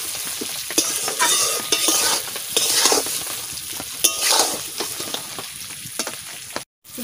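Spices with Kashmiri chilli are sautéed in a pan for pointed gourd curry, with a close crackling sizzle broken by repeated scraping stirs and spatula knocks, ending in a brief cut.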